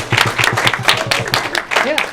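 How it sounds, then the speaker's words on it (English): At a Toastmasters-style meeting, a small group claps in a quick, steady rhythm from close by, greeting the table topics winner, with a voice briefly heard under the clapping. "give a round of applause for the winner of the table topics, Michael."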